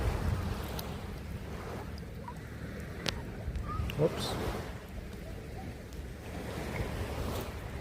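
Shower water runs in a steady, broad hiss while someone rinses off on Ko Samet island in Thailand, with a brief exclaimed word and small knocks under the rushing spray.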